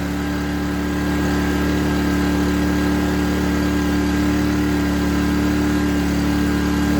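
A Scheppach SE2500I inverter generator runs under electrical load with a steady, loud engine drone and hum that holds constant throughout, with no talking.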